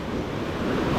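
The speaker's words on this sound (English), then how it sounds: "The waves are huge as crazy." Huge ocean waves crash at a beach in Portland, Jamaica, a loud continuous roar of surf mixed with gusting wind noise on the microphone, with no voices.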